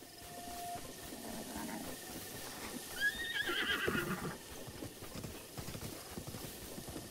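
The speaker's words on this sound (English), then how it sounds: "Is that a regular horse or a giant horse?" In Zelda: Breath of the Wild, a horse gives a clear whinny near the middle while its hooves clop steadily throughout, moderately close against quiet outdoor ambience.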